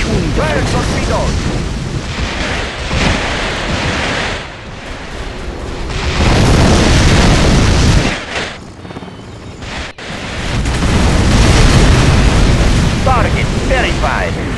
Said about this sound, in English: The Iron Dragon launches through your puny defense.